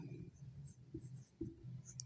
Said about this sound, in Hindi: तो हम लोग लिख सकते हैं